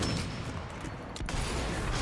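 Gunfire hitting a mine in Sniper Elite V2 Remastered, a dense crackling burst of distant shots and explosion noise with a brief sharp crack near the middle, heard without talk.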